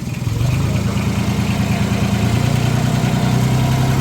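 A paddy field tractor engine idles close by with a loud, steady, chugging low rumble that holds an even rhythm throughout.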